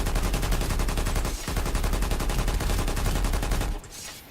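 Naginita gun in a video game firing in rapid sustained automatic bursts, a loud dense rattle of shots that pauses briefly once, then cuts off near the end, with no talk.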